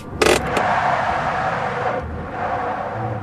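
A car engine drives along steadily for a radio drama scene, with a thumping noise at the start and a constant moderately loud engine rumble throughout, without dialogue.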